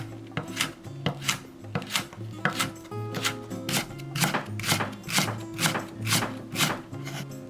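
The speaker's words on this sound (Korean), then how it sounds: "파채용 대파는 칼로 길게 어서 썰고" A knife slices green onion lengthwise into thin strips on a cutting board, a steady rhythm of crisp, evenly spaced chops repeating about twice a second, close and clear.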